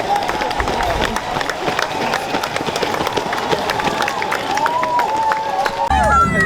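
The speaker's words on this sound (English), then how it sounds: "I've had so many people cheer for me." Spectators cheering runners along the London Marathon course: a steady wall of crowd noise with clapping, shouts and whistles, dense and close throughout, a runner's heavy footfalls and breathing mixed in.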